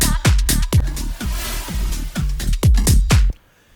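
A white-noise sweep-down effect from a Max for Live device in Ableton washes over a driving dance beat with steady kick drums, then cuts off abruptly into near silence at the end.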